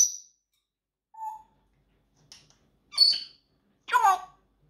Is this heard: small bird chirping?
yes